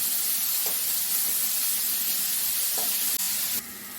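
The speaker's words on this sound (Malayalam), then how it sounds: "ഈ സവാള ചെറുതായിട്ടൊന്ന് വഴറ്റിയെടുക്കണം" Chopped onion sautés in a pan for an okra thoran, giving a steady, fairly loud sizzle and hiss with a few faint clinks before it drops lower near the end.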